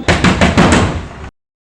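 A door is struck with repeated knocks, about five quick, loud raps in a steady rhythm, close by, ending abruptly in silence.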